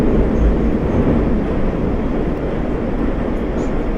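A moving metro train gives a loud, steady rumble heard from on board, with a constant rushing roar and no breaks throughout.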